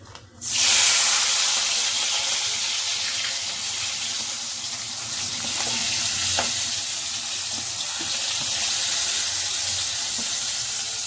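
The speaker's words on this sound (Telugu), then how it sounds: "జీలకర్ర అంతా వేగిన తర్వాత ఇప్పుడు మనం కట్ చేసి పెట్టుకున్న ఉల్లిపాయలు పచ్చిమిరపకాయలని వేయించాలి" Chopped onions and green chillies dropped into hot oil with cumin seeds, bursting into a loud, close sizzle that settles into a steady frying hiss with faint stirring scrapes, and no voices.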